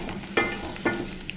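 Ivy gourd (dondakaya) fries in hot oil with a steady close sizzle, broken by two soft stirring scrapes.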